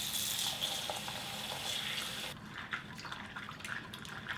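Tap water runs into a bowl while half a cup of walnuts is washed by hand for carrot cake muffins, a soft steady stream that gives way to quieter splashing and drips.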